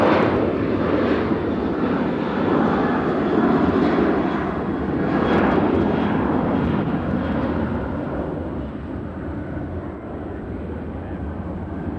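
American Airlines airliner bound for Miami passing over Nashville, a loud sustained jet roar with rising and falling surges that gradually fades toward the end, no voices present.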